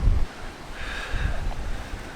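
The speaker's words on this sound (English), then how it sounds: "It is windy as hell." Strong wind buffets the microphone with low rumbling gusts outdoors during move-in at the SEMA 2023 car show, a brief loud thump at the start, and a faint airy hiss throughout.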